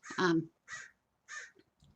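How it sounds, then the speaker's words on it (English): A crow caws three or four times, each a short harsh call separated by brief pauses, fairly close and alone. "That bird came by to say hello."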